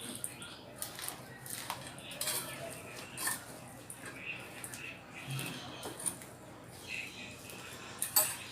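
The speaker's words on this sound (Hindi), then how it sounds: "हम धीरे धीरे स्पून के सहारे इसको मिक्स कर रहे हैं।" A spoon slowly mixes poha with potato and masala in a pan, giving quiet, scattered clinks and scrapes at close range against a soft background.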